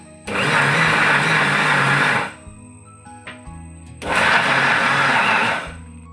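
A mixer grinder kneads flour with water into dough, running loud and close in two steady bursts of about two seconds each, separated by a short pause with faint handling clicks, with no voices.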